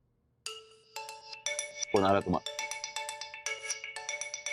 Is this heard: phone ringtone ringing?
yes